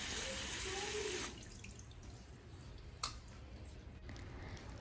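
Water streams and splashes over an orchid in a self-watering semi-hydro pot with leca, loud at first, then cutting off to quiet drips and a few small knocks.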